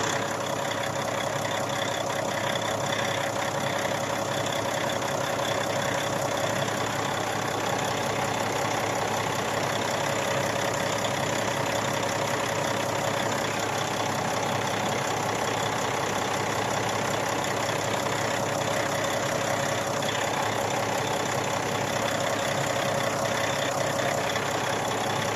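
A machine's engine idles steadily and close by while its fuel pressure sensor is checked, a continuous even drone with a faint whine, running alone with no talk.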